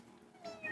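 Two short meows from a cat in the Cat Shelter Rescue video game, the second higher and slightly louder, over a soft, steady background hum.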